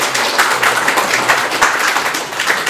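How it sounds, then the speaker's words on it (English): At a Startup Grind tech gathering in Bratislava, an audience gives warm applause for a blockchain company founder: loud, continuous clapping from a crowd, close and steady with scattered sharper claps throughout. "So please give warm applause to Matej."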